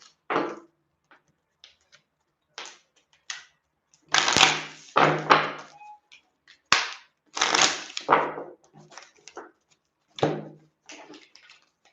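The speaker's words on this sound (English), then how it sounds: "while I am shuffling the cards for Troy" Tarot cards shuffled by hand in a riffle, making a series of sharp, close flutters and snaps in short bursts separated by brief pauses, with no voices.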